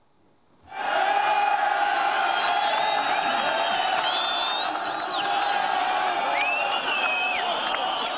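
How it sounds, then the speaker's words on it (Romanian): A large crowd of Egyptian protesters in Tahrir Square erupts into loud sustained cheering and whooping after a quiet start, with shrill whistles and shouted calls rising above the roar throughout. "Ovaționat de manifestanți, Charaf s-a angajat să facă totul pentru a le satisface revendicările"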